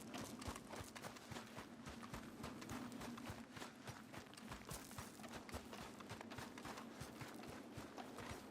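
Horse hooves clip-clop steadily in Red Dead Redemption 2, a continuous run of close, even footfalls with no talk over them.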